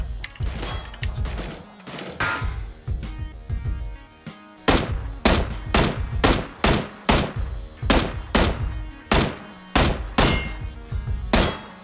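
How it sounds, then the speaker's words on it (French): Gunshots strike metal in PUBG Battlegrounds: loud, heavy metallic thunks fired in quick clusters, then a steady run of evenly spaced hits, close and prominent. "je tire dans le métal"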